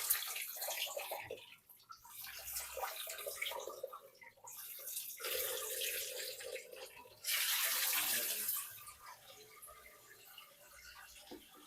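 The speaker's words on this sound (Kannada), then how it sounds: "1 ಟೊಮೆಟೊ ವಾಶ್ ಆಯಿತು." A tomato is rinsed under running tap water in a home kitchen while cooking fried rice, giving a steady splashing stream that changes tone as the tomato is moved through it, with a brief louder burst of water near the end.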